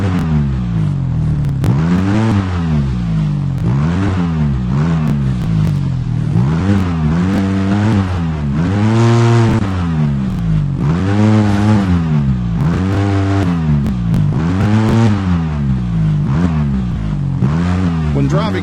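An off-road vehicle in the video game Overpass revs repeatedly while driving over a seesaw obstacle, its engine pitch rising and falling in regular waves with a voice talking over it.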